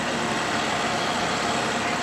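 A Sherp all-terrain vehicle's engine runs steadily in second gear in winter terrain, a dense, loud, continuous drone with no letup and no talking.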